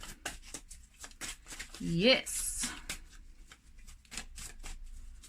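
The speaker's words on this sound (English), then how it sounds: "we're going to shuffle the deck up" Deck of tarot cards being shuffled in quick riffling bursts, fairly quiet and close, with a woman's brief spoken word in the middle.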